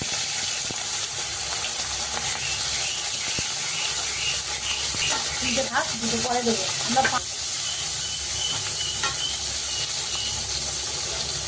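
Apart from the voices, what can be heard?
bata fish frying in hot oil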